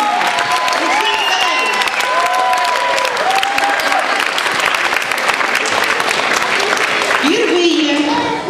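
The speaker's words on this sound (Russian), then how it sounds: "Ему аплодисменты." A crowd claps steadily and loudly throughout, a dense wash of applause with a few voices and whoops rising faintly underneath.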